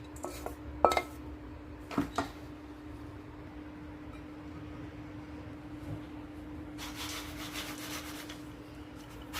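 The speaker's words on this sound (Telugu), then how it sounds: "జస్ట్ ఏదో కొద్దిగా లైట్గా కొంచెం ఫ్రై చేసుకుంటే సరిపోద్ది." Dry fruits are lightly fried in a pan: a few sharp clinks and scrapes of a utensil against the metal early on, then a quiet steady background with a faint hiss near the end.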